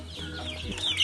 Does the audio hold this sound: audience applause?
no